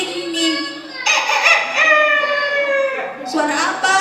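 A rooster crows for a group of kindergarten children at a mosque storytelling session, one long, loud, harmonic call that rises, holds and falls, heard close and clear, followed by a shorter burst at the end.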